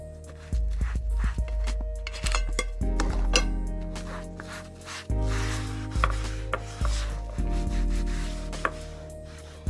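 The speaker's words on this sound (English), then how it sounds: "I scrubbed the living daylights out of it with the saddle soap" Repeated scrubbing and rubbing strokes on leather with saddle soap and water at close range, in uneven bursts with brief pauses and occasional light knocks.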